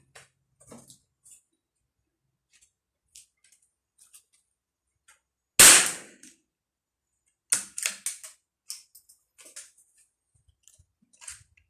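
A single loud, sharp shot from a CZ 457 AT-ONE rifle with a 24-inch barrel cracks out near the middle, followed by small clicks and handling noises in an otherwise quiet setting.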